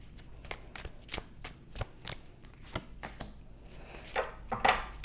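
Tarot cards being shuffled and drawn, a run of crisp, close riffling snaps and slaps in an irregular rhythm, with a louder burst of card flicks near the end.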